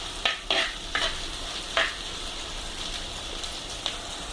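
Sardine curry masala with green chillies and curry leaves being stirred and fried in a pan: several scraping stir strokes over a steady soft sizzle, fairly close, with no talk.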